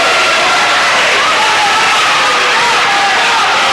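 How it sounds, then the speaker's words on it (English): A basketball crowd at a girls' high school game, Summertown against Collinwood, raises a steady, loud roar of voices and cheering that fills the gym without letup. "Crowd's beginning to get vocal."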